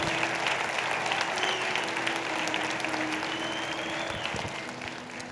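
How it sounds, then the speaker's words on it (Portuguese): Sustained clapping from a church congregation during a sermon, dense and fairly distant, holding steady for about five seconds, with a faint sustained tone and a murmur of crowd beneath it. "Pode aplaudir Jesus?"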